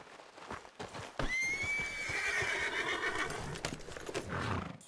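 Horse in the video game Red Dead Redemption 2 gives a loud, drawn-out neigh over the clip-clop of hooves, with hoofbeats continuing afterward.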